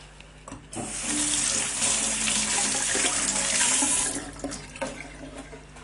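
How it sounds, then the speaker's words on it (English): A kitchen tap runs steadily for several seconds as fresh cilantro roots are rinsed under it for a Belgian-style mussel dish, a continuous splashing stream that starts abruptly, fluctuates slightly and then stops. "chop off the roots, give them a quick rinse, and then throw them in"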